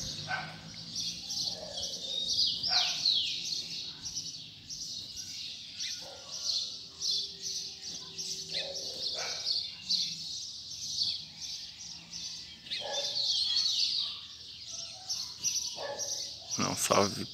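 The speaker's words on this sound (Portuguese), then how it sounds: "Ó, os coleiros alinhando aí," Coleiros, double-collared seedeaters, sing in bright high chirping bursts against a quiet background, with someone talking now and then between the phrases.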